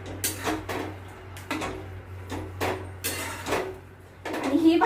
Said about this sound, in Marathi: तर मी पूर्ण असं हलवून घेते